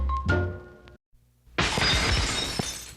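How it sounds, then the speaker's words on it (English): Glass shattering as a sound effect in an old local radio-style advertisement for a glass shop: a sharp crash with ringing shards, a brief silence, then a second loud burst of breaking glass scattering and tinkling. "Break a glass? Call Andy's Glass. For broken glass, see Andy's Glass."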